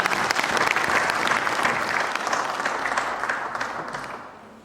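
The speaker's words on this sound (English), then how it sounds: "I think everybody should give a clap." An audience at a publishing conference applauds with a loud, dense burst of clapping that slowly tapers off over a few seconds.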